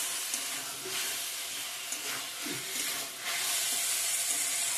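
Doi chicken masala fries and sizzles in oil in a pan, releasing its oil. The hiss is dense and continuous, with faint stirring scrapes and bubbling bursts running through it, close and steady.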